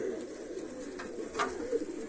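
A pigeon held in a hand coos in a soft, low, continuous rumble, close by and alone, with a couple of faint brief rustles.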